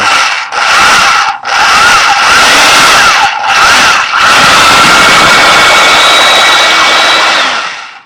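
A drill bores out a plastic part of a Nerf Reflex blaster, a loud, steady whine broken by several short stops and restarts before it winds down.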